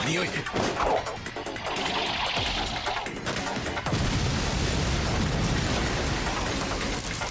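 Explosions and crashes from an anime episode, a dense, roaring burst of blasts and rumble that fills the whole stretch, loud and continuous with a deep boom settling in partway through.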